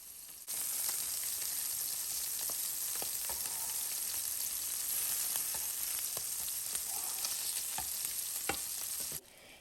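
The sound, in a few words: fish frying lightly in a pan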